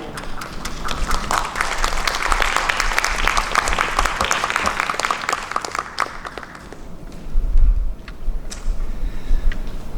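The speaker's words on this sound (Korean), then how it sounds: "우리 앞으로 나오실 때 우리 따뜻한 박수로 맞이해 주시기를 바랍니다" An audience at a church mission conference gives a speaker dense, sustained applause that fills the hall, slowly thinning toward the end with some low rumbling handling noise.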